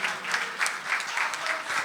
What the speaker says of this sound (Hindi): आप अपने लिए तालियां बजा